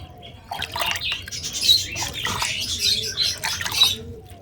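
Pigeons make soft chirps and coos at morning feeding, along with light splashing and scattered bird noises in the background.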